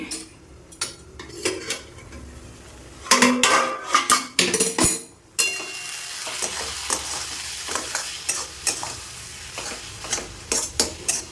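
A spoon scrapes and clatters against a pot while pulao with sugar is stirred and sizzles, irregular loud metallic knocks and scraping over a soft frying hiss, close and continuous.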